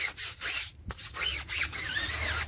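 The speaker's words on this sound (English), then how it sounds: "Just take my brush, I hit the tires." A stiff brush scrubs car tires during a rinseless snow foam wash, making close, loud, rhythmic scratchy rubbing strokes with brief pauses between passes. There is no talking.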